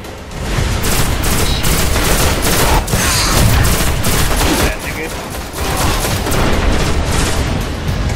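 Rapid gunfire from the Destiny beta Moon mission, dense and continuous across the whole stretch with only brief dips, loud and close, bursts overlapping into a steady barrage.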